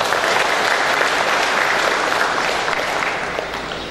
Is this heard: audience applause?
yes